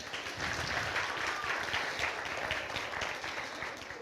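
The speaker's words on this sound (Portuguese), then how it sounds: "Salva de palmas para ele." A church audience during a prayer-week sermon breaks into steady applause, many hands clapping in a continuous, moderately loud wash with no speech over it.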